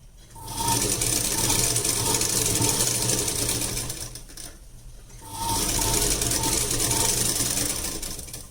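A sewing machine stitching blouse lining runs in two steady, close, whirring bursts with a rapid mechanical clatter, separated by a short pause, with no voices.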